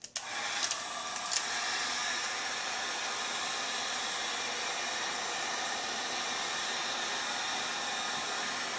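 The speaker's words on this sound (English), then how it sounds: "all I'm doing is going back and forth with the heat gun, waiting for it to get warm and flexible" Heat gun blowing hot air on plexiglass, a steady close whooshing hiss that switches on with a few faint clicks at the start and then runs evenly throughout.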